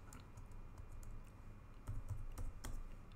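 Someone types on a computer keyboard, tapping keys in quick irregular bursts that are quiet and close over a low background hum.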